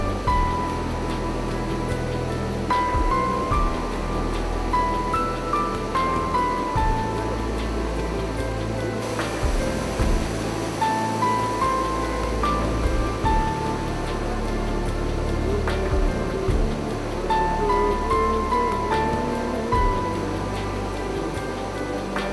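Water of Irpu waterfall in Kodagu rushes in a steady, broad roar heard from a distance, continuous throughout without speech.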